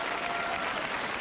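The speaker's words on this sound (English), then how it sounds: "a huge round of applause for the wonderful Inventor" An audience gives a steady burst of applause for an inventor at a television show, a dense, even clapping from a crowd with no one speaking.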